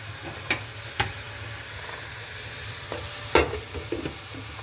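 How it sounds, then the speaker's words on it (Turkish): Börek filling sautés in a covered pan with oil, a soft steady sizzle broken by a few sharp scrapes and clicks of stirring, close and quiet, with no talking. "Kapağını da kapatıp arkadaşlar ara sıra karıştırarak sotelenmesini sağlayacağım."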